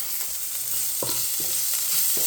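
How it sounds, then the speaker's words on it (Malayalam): Shallots and onions dropped into browned garlic in hot oil fry with a steady bright sizzle, punctuated by a few clunking stirs of a spoon against the pan. "ഞാൻ ഉള്ളിയും സവാളയും കൂടെ മിക്സ് ചെയ്തിട്ടാണ് ഇടുന്നത്"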